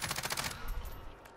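Rapid automatic gunfire from Call of Duty: Warzone, a burst of close, evenly spaced shots for about half a second that then trails off into scattered, fainter reports.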